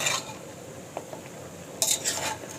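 Utensil stirs a tomato mixture in a cooking pot, a few soft scrapes and clinks close by with a brief clatter near the end, no voices.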